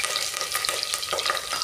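Mustard seeds, curry leaves and garlic paste hit hot oil for khichdi, giving a steady, close, loud crackling sizzle with spitting pops throughout, no voices.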